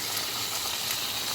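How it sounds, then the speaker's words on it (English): Beef chuck roast sizzling in a hot pan after being flipped, a dense continuous hiss with fine crackling pops, close and steady throughout. "Nice sizzle popping,"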